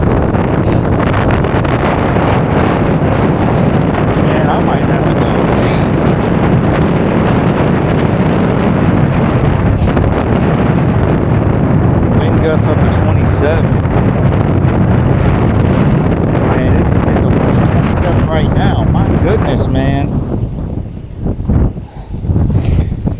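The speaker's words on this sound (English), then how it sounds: "Boy, it is windy, man." Strong gusty wind of about 27 mph buffets the microphone while fishing in spring, a loud continuous roar with rushing surges that drops briefly near the end.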